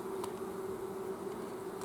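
Agitated bees buzz inside a hive box of a queenless colony, a steady close droning hum that holds without a break and has no voices over it.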